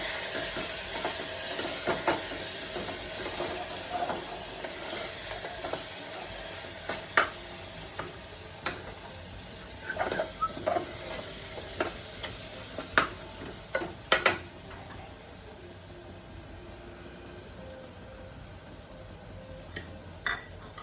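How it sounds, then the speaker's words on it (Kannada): Masala frying in a pan with coriander powder, turmeric and kasuri methi added for an egg biryani, a soft continuous sizzle and hiss with scattered sharp spoon clinks and scrapes, no talk. "ಸ್ವಲ್ಪ ಧನಿಯಾ ಪೌಡರ್, ಕಾಟುವ ಮಸಾಲ, ಸ್ವಲ್ಪ ಅರಿಶಿಣ, ಕಸ್ತೂರಿ ಮೆಥೆ ಇದನ್ನು ಹಾಕ್ಕೊಂಡು ಫ್ರೈ ಮಾಡ್ಕೊಳ್ಳಿ"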